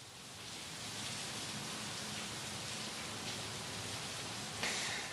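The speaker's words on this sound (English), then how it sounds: "the rain and the wind, as you can see behind me in the southern city of Kaohsiung, has really started to pick up" Heavy rain and wind from Typhoon Krathon lash Kaohsiung, Taiwan, a steady dense hiss of downpour holding constant throughout with a brief gust-like swell near the end.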